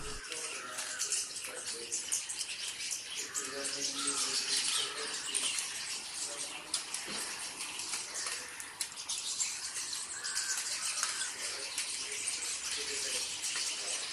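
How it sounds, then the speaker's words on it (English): A dense chorus of many birds in a tree in New Delhi, chirping and twittering all together at moderate distance, with a hissing background and no clear single calls standing out. "Nowadays, this tree is full of birds, birds chirping, and the birds are of different variety."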